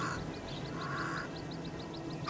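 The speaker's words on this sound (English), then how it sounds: "And it's not the crow's cry that will scare it away." At a hot savanna waterhole, a crow gives a couple of harsh caws over a steady outdoor background, while a quicker series of small bird chirps repeats alongside.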